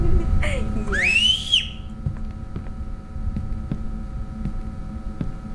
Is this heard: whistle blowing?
yes